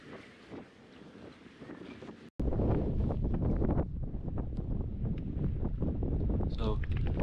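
Strong wind buffets the microphone on a rocky island off Marseille, a deep roaring rumble that jumps suddenly louder partway through and stays heavy, with faint water and boat sounds beneath.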